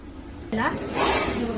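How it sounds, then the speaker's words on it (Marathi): A large cobra rears in attack position and lets out a sharp, breathy hiss close by, a brief broad burst that rises over voices talking nearby. "पूर्ण अटॅक पोझिशन मध्ये फार मोठा नाग आहे"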